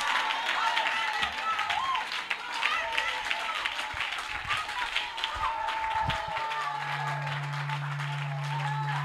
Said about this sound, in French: Une main d'acclamation au Seigneur.